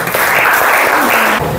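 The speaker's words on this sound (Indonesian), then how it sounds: "Tepuk tangan" Students in a classroom applaud after a group presentation, a dense burst of clapping that fills the whole moment at close range before tapering slightly at the end.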